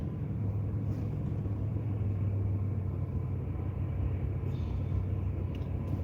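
Low, steady rumble of rush hour traffic idling and creeping in a backed-up highway entry lane, heard from inside a car, a continuous engine drone with no distinct passes and no talking.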